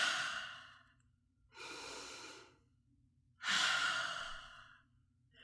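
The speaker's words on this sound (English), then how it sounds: "Take a deep breath in through your nose and out through your mouth." Three slow deep breaths, drawn in through the nose and released through the mouth, each a soft airy rush with quiet gaps between, close and alone.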